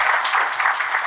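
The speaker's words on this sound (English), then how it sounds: "So if we can have a clap for all of three of them." Audience applause at a games library night event, a steady crowd clapping that fills the whole moment, fairly loud and continuous with no talk over it.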